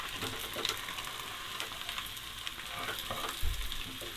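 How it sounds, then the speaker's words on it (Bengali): Rice for prawn biryani is stir-fried in a pan, a faint steady sizzle with occasional scraping from stirring and a low thump near the end. "চালটাকে আমি প্রায় 3 মিনিট মতো নেড়ে চেড়ে ভেজে নিলাম।"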